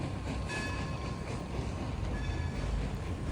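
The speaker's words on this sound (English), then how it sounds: "So a train actually went past the hotel" A passenger train rolls past a hotel in Scranton, its steady rumble and faint wheel clatter carrying at moderate distance with no voices over it.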